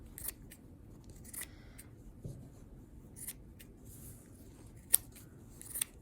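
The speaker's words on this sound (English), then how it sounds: "So I just cut up my leftovers into little pieces." Scissors snip fabric leftovers into small pieces for stuffing a cloth doll, giving sparse, quiet, close cuts with a few sharper clicks among soft rustling.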